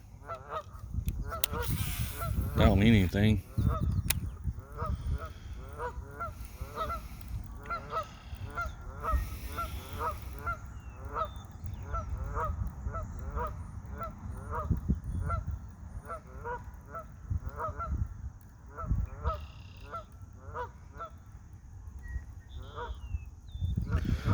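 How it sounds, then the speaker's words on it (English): Geese near a pond honk in a rapid repeating series, moderately distant and steady for most of the stretch, with someone speaking briefly and outdoor handling noise early on. "We'll find out in a minute if I get attacked by some geese."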